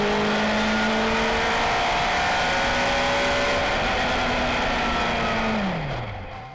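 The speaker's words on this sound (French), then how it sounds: "Le moteur en position arrière est très nerveux et ça bastonne fort." Rear-engined race car accelerating hard, its engine note climbing steadily through a gear and then dropping away as it fades at the end, loud and close with no voices.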